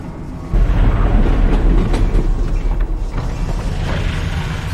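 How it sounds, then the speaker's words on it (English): A train rolls along rails in the virtual reality game Half-Life: Alyx, a loud, close rumble with creaking and rhythmic clickety-clack of wheels and mechanisms, running steadily on its own. "Did the train stop? It stopped, didn't it?"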